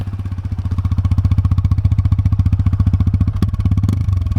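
A TVS Apache 160 2V motorcycle idling, its engine and exhaust giving a fast, even, thumping pulse, close and loud throughout, with a couple of brief clicks near the end.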